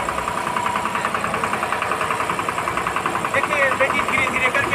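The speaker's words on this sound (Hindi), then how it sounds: "देखिए बेटी धीरे धीरे करके ट्रैक्टर में बढ़ रही है।" A tractor driven by a young woman in Sisai village, Gumla district, runs with a steady, close engine drone that throbs evenly as it moves along.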